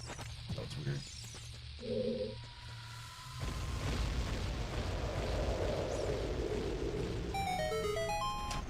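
Bombs going off in Ocarina of Time Randomizer, a low rumbling boom swelling midway and rolling on loudly beneath game music and chimes, with a player's voice talking early on.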